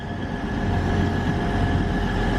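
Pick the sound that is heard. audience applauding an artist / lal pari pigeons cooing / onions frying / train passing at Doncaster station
train passing at Doncaster station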